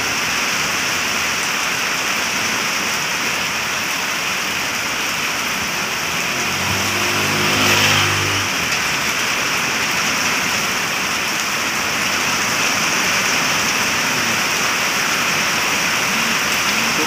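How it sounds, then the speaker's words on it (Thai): Heavy evening rain with strong wind in Rangsit pours down in a dense, loud, continuous hiss, with a brief swelling rush midway. "ฝนก็หนักลมก็แรง"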